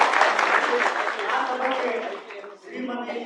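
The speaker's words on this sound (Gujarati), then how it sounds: "સન્માનને આપણે સૌ તાળીઓથી વધાવતા રહીશું." Audience applause at a gathering honouring a guest, broad and sustained for about three seconds, dipping briefly near the end before resuming.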